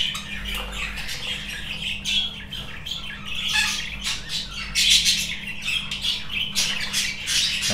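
Budgerigars in a breeding aviary squawk and chirp continuously at close range, with sharp overlapping calls rising and falling over a steady background of chatter.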